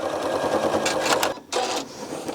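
A sewing machine stitches binding onto a quilt in a fast, even mechanical patter, pausing briefly before resuming, loud and close.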